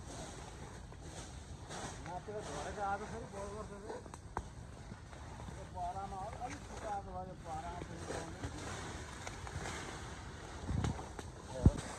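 Strong gusting wind buffets a clifftop near a spreading wildfire, a steady broadband roar with rumbling mic buffeting throughout; faint voices murmur underneath.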